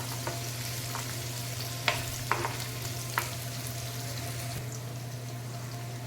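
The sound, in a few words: onion sauteing in a pan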